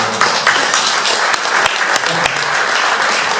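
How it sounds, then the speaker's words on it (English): Steady audience applause at a Rotary tribute and service award gathering, a dense continuous patter of many hands clapping at moderate level with a few sharper claps standing out. "I want to give a huge round of applause before she gets up here"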